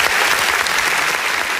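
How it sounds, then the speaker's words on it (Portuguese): A studio audience on a Brazilian talk show applauds steadily, a dense, even wash of clapping that holds loud and unbroken throughout. "Aplausos aí"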